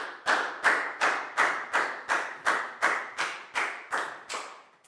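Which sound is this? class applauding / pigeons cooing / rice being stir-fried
class applauding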